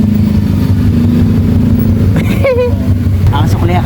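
A jeepney rolls slowly along a rural provincial farm road, its mid-pitched engine rumbling steadily and close, with brief voices breaking in over the drone toward the end.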